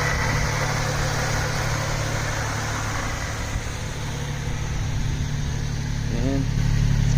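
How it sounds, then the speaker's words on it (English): A truck engine idles after a cold start, steady with a constant low rumble and rough vibration through a TRD exhaust, close by and unchanging throughout. "It's a cold start."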